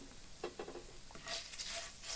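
Curry leaves, asafoetida and tempering spices fry in hot oil for a garika (Bermuda grass) chutney, giving a steady soft sizzle broken by a few stirring scrapes, with a brighter hiss swelling in the second half; nobody speaks.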